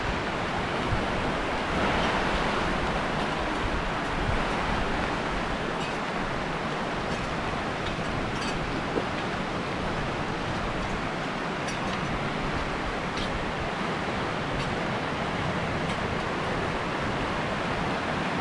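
The East Quinault River rushes beside a forest trail, a loud steady broadband roar of flowing water that fills the air without a break.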